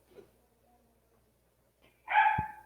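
A pet dog lets out a single loud, close bark after a near-silent stretch, with a faint earlier yip and a low thump inside the bark.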